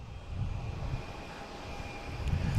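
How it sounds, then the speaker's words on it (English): A Delta airliner arriving at Boston Logan International Airport from Reagan produces a faint, distant, steady jet rumble mixed with breezy outdoor air noise. "Just had a Delta come in from Reagan."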